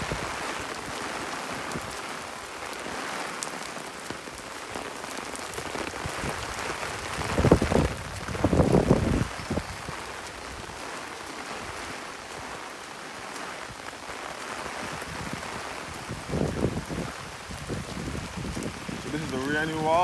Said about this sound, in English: So this is the rainy walk